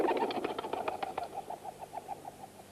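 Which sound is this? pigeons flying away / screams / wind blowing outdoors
pigeons flying away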